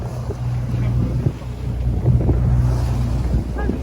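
Choppy, messy sea around a boat off Bangor over a rocky, uneven seabed, with water slapping and churning against the hull under heavy buffeting wind noise, close and constant.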